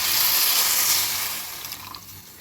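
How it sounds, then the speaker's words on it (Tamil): Water from a glass poured into a pan of golden-brown fried onions for onion pachadi, a loud rushing splash and sizzle that starts at once and slowly eases off over a couple of seconds, with no talking. "இப்போ இதோட 1 கிளாஸ் தண்ணி ஆட் பண்ண போகிறோம்."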